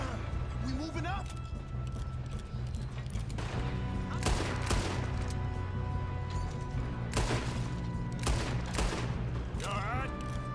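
Rapid gunfire volleys crackle during a train robbery in Red Dead Redemption 2, with bursts of overlapping shots around seconds 4–5, 7–8 and 9, over a steady rumble of train noise and in-game music while people talk.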